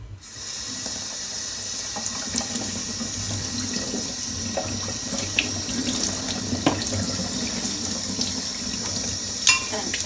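Tap water runs steadily into a sink while a Miele tumble dryer lint filter is rinsed under it, a close, continuous splashing hiss with small irregular drips and knocks.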